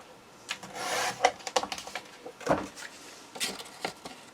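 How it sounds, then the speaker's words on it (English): A trimmer cutting material for a memory chest, giving a few short scraping and rubbing strokes with small clicks, close and fairly quiet, with pauses between. "I don't think my trimmer's cutting correctly."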